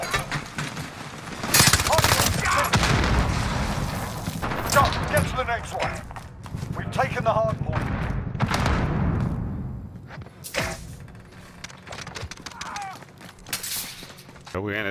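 Bursts of gunfire and shattering impacts fill a Call of Duty-style video game firefight, loud and close, with voices shouting over the shots.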